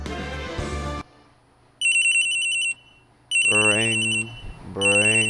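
Telephone ringing in the Phoenix Wright Ace Attorney video game, a bright electronic trill repeating in bursts between pauses, loud and close, with someone talking over parts of it.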